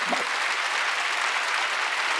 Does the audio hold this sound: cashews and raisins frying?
no